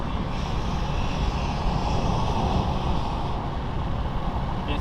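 Dodge Hellcat Redeye on launch control, its supercharged V8 roaring in a steady, loud, close-up drone as it revs and accelerates hard, with no speech over it.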